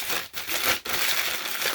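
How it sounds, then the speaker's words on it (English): Paper bags are crumpled by hand as part of a pumpkin craft, producing a close, steady rustling crinkle with two brief pauses. The crackling is quiet and continuous, with no one speaking. "we're taking 4 of them and we're crumpling them up"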